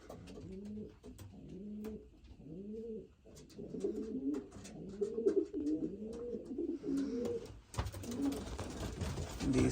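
Racing pigeons cooing in an indoor loft, several soft repeated coos overlapping close by, with light shuffling and wing or movement noise toward the end.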